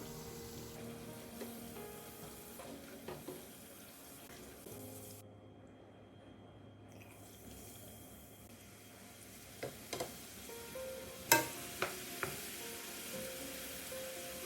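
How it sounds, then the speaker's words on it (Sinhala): Macaroni pasta deep-fries in hot oil with a quiet, steady bubbling sizzle, broken near the end by several sharp clinks and knocks of a utensil against the pan. "මේ විදිහට ඔක්කොම පැස්ටා ටික මම බැදගත්තා"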